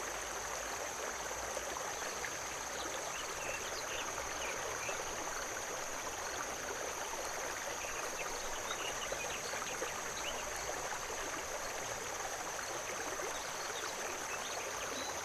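A brook flows steadily in the video game The Night of the Rabbit, an even, continuous watery rush and babble at moderate volume with no voices.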